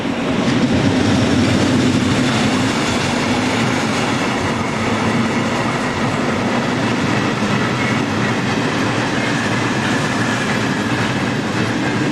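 Electric locomotive 1042-018 hauls a train eastward past Oberlaar, a loud, continuous close rumble of wheels and rail with a steady roar and faint clattering throughout, no voices.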